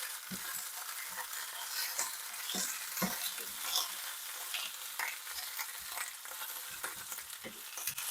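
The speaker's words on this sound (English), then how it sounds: "So essentially we want to blister the tomatoes before we put them in with the meat" Tomatoes blister in a hot frying pan for birria tacos, a steady broadband sizzle with scattered crackles and pops, with occasional stirring clinks, close and continuous.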